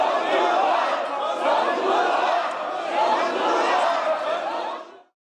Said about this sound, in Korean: 본회의장에선 윤 의원을 향해 전두환이라는 고성과 야유가 쏟아졌습니다